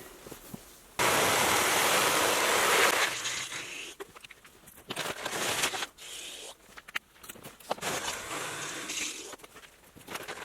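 Water gushes loudly from a tap into a bottle for about two seconds, then stops, followed by scattered clatters and handling noises nearby.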